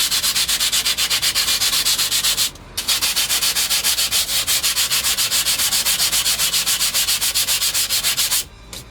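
Steady abrasive rasp of a belt grinder sanding a knife blade toward a satin finish, loud and continuous with a fast ripple from the belt, briefly dropping twice as the blade lifts off.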